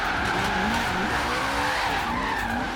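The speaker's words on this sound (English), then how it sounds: "we're gonna drift around here a few laps" A high-horsepower car drifts in Forza Horizon 3 with a continuous loud tire squeal over a roaring engine, the screech wavering steadily as the car slides around a lap without a break.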